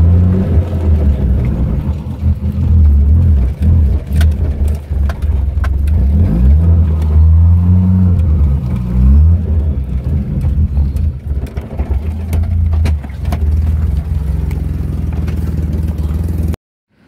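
A car engine revs hard and near, climbing and falling in pitch through repeated throttle blips on a clutch-focused Easter Sunday outing before drifting, with a steady loud drone throughout and no talk.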